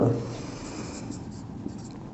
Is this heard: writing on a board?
yes